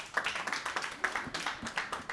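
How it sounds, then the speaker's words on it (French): An audience at an International Day of Peace celebration claps for a Japanese sapeur: a modest, close burst of rhythmic hand claps with no talking. "Est-ce qu'on peut applaudir pour le sapeur japonais?"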